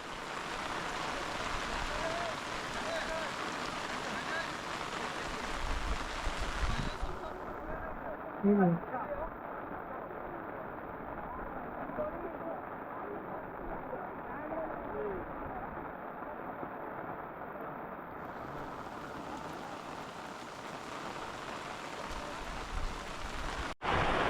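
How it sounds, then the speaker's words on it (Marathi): Heavy rain pours down on a rice field in a constant loud hiss throughout, while someone speaks over the downpour. "तुफान असा पाऊस चालू झालेला आहे"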